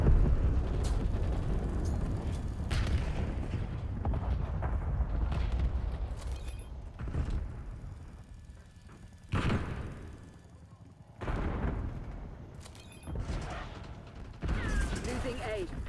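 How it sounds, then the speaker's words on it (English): Heavy booming blasts and rumbling detonations from napalm and laser-guided bomb strikes in Call of Duty: Black Ops 6, with bursts of gunfire, loud and dense, while game voices call out over the chaos. "TACOM, base requesting napalm strike."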